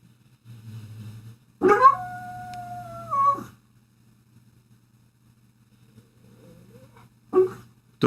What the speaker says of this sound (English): Dog's having nightmares. He's howling and barking in his sleep.